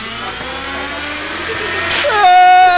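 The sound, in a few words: desktop toy helicopter rotor spinning at full throttle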